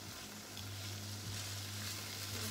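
Food browning in a pan gives off a steady, soft, continuous sizzle with no talking.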